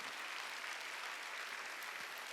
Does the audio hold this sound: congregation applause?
yes